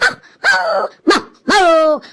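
A cartoon voice imitates a pack of ten or twelve dogs barking outside a house, giving four loud, close, voiced barks, two short and two long and drawn-out.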